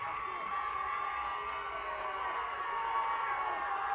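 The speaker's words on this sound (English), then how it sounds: "the crowd getting loud here at East Atchison" A crowd at a high school football game between East Atchison and Platte Valley roars in a steady, distant wash of cheering and shouting that stays at one level throughout.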